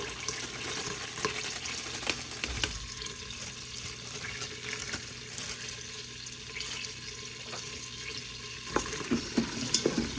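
Diced celery ribs and onion sautéing in a soup pot, a soft, quiet sizzle with faint clinks and occasional scrapes of stirring, gently spaced and close, no talking.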